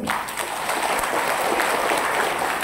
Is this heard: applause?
yes